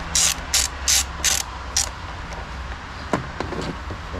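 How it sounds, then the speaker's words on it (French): A 13 mm socket wrench ratcheting while removing a screw during a Renault Megane 4 battery change, with about five sharp ratchet bursts close up followed by a few faint clicks and knocks over a steady low background hum. "vous prenez une clé à pipe 13, ok, et on va aller la démonter tout simplement"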